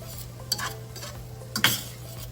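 Flour being stirred into browning vegetables and meat in a pan for a shepherd's pie filling, with a low sizzle under a few distinct scraping utensil strokes against the pan.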